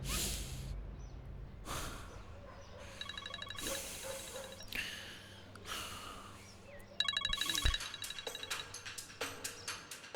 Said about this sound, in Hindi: अब मलिका क्यों फोन कर रही है?